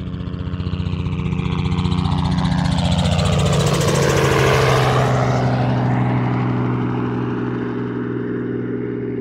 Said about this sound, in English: Never seen a helicopter come around this lake like that.